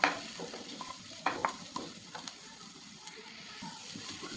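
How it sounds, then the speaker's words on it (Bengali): Chopped onions sizzle in oil in a frying pan on a stove, a steady close hiss broken by scraping and clattering as they are stirred. "এরপর আমি চুলার উপরে ফ্রাই প্যানটা দিয়ে এর মধ্যে তেল আর পেঁয়াজ কুচি দিয়ে রেখেছি। এখন এগুলো আমি ব্রাউন কালার করে ভেজে নেব।"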